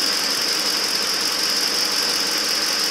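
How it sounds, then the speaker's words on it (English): A Ford F-150 pickup's engine runs steadily, a constant loud mechanical drone with a hissing whine and no clear rise in revs, partly disconnected, heard alone without talk. "Go ahead and rev that engine up a little bit and see if you can hear any ticking"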